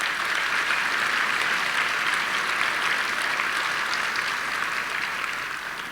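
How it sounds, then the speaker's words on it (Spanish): A large congregation applauds at the closing Mass of a synodal assembly, a sustained, even wash of many hands clapping together, moderately distant, gently fading near the end. "También vamos a darles un aplauso."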